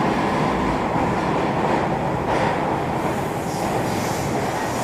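Swiss train riding along a river, a steady interior rumble with rolling wheel noise and faint rail clatter, constant and close.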